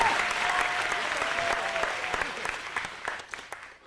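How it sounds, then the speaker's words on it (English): Applause from the audience at a 1998 bass clinic in Fukuoka with Billy Sheehan, many hands clapping loudly and then gradually thinning and fading toward the end. "拍手をお願いします"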